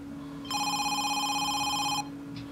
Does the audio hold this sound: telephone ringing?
yes